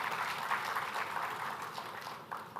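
Audience clapping at a Yashaswi Group launch of a Learn & Earn program, a steady, fairly faint wash of applause that runs the whole time without a break.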